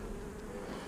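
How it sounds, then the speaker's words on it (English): Newly hatched honey bees crowd a hive frame, a close, steady buzzing drone with no break across the short moment. "So these are bees that all hatched"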